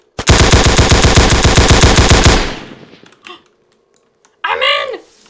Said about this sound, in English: He just shot me!